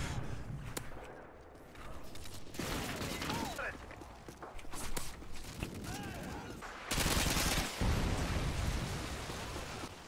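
Call of Duty: Modern Warfare 2 gunfire crackles in dense automatic bursts and scattered shots throughout, with players talking over the battle noise.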